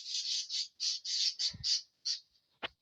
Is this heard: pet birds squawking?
yes